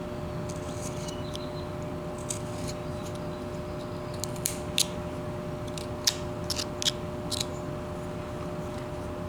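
Scissors cut a center line into material: sparse, faint, crisp snips and ticks scattered over a steady background hum, with no voices.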